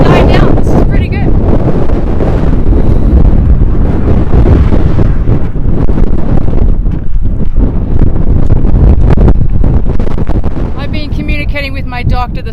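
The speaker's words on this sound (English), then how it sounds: "I don't know how windy it is. It's this windy." Strong wind buffets the microphone on a road journey from the Persian Gulf to the Caspian Sea in Iran, a loud continuous rumbling roar that fills the whole stretch.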